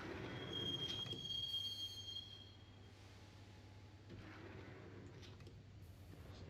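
A subway train ride in the video game Max Payne: a close, high metallic wheel squeal over a low rumbling rail drone, fading and then surging again, with no talking.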